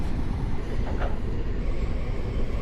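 Steady, loud rumble of a train rolling along the track in the Train Operator 377 simulator, a continuous heavy drone with faint clatter and no talking.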